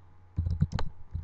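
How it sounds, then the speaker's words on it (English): Quick keystrokes on a computer keyboard sound close and quiet: a short cluster of about half a dozen taps within half a second, then a faint final click. "Then you want to type in Spirit"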